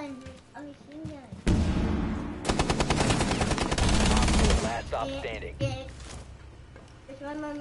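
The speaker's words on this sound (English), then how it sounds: "They're like having mini guns. A machine gun." Loud, rapid bursts of automatic machine gun fire in the video game Rainbow Six Siege, with a sustained stretch of continuous shooting in the middle and a voice talking over the gunfire before and after it.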